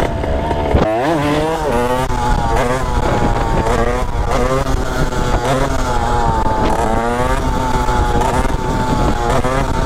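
A 70cc Airsal-kitted motorcycle's engine revs loudly and close, the pitch climbing and dropping repeatedly as gears are forced through without the clutch, a harsh, rising and falling drone throughout.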